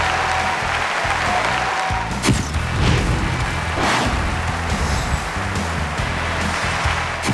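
Studio audience on a TV family variety show applauds to welcome the Yordle father-son duo: steady, dense clapping that holds loud and even throughout, with a few sharper thumps mixed in.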